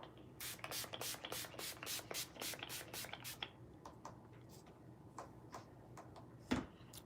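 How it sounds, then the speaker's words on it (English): Several quick bursts from a spray bottle misted onto a face, a rapid run of short hisses followed by a few sparser, fainter pumps, close and otherwise quiet. "I'm gonna spray my face."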